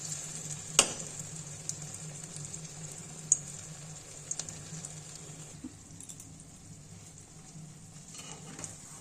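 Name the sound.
potato muitha frying in oil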